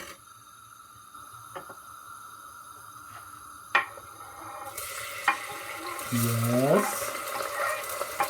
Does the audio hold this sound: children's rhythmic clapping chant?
no